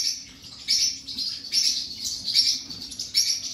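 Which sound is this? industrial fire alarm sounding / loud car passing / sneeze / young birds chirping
young birds chirping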